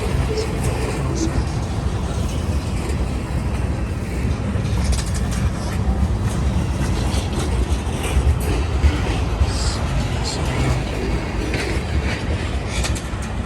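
A CSX freight train pulled by locomotives 3429 and 746 pulls out of a siding, its cars producing a close, steady rumble and rattling clatter that continues unbroken throughout.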